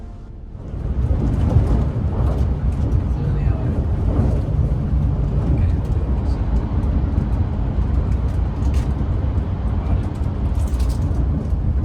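Steady broadband rumble inside a Shinkansen GranClass Hayabusa train at high speed on the Tohoku line, a dense low roar with continuous mid and high hiss, even and unbroken throughout with no talking.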